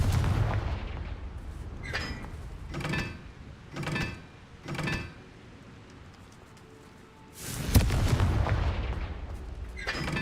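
Fiery blasts from the Confringo spell in the game Hogwarts Legacy: four booming bursts in a row, then a bigger sustained blast, heavy and loud with low rumble.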